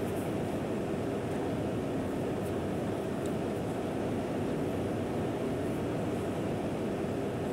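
Rumbling train noise from the video game Chaser, a steady low roar of a moving train with wheel and carriage noise that holds evenly throughout with no voices.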